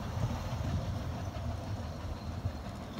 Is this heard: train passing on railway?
yes